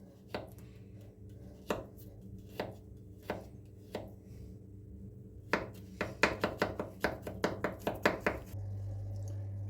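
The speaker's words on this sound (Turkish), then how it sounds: "Şimdi iki diş sarımsağımızı da küçük küçük doğrayalım." Sharp knife chops on a cutting board finely mincing two garlic cloves, a few spaced strikes at first, then a quick run of rapid chopping, close and clear.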